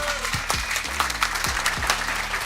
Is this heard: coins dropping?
no